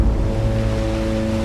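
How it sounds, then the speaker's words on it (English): Ocean waves and surf roll in a steady, dense wash, loud and continuous with no voices over it. "The ocean."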